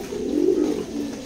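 A choco grizzle pigeon pair coos in a short, low, soft warble that swells and fades over about a second, close by, with no talking.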